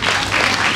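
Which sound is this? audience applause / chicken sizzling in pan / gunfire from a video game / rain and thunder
audience applause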